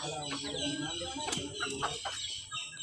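Farmyard chickens cluck in short bursts close by, set against a busy backdrop of other birds and faint rural noise.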